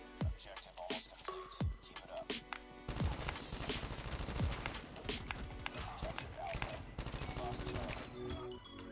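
Sustained rapid gunfire from the Type 25 rifle in the mobile shooter Call of Duty Mobile, crackling bursts layered with other game effects while a person speaks Spanish over it.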